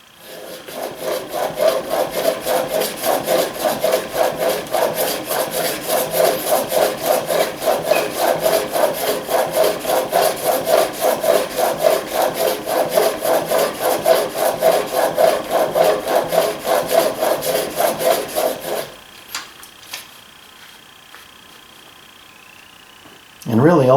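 A steel blade is worked back and forth on a 300 grit sharpening stone, a close, loud, steady rhythmic scraping of many quick strokes that stops abruptly near the end, followed by quiet handling.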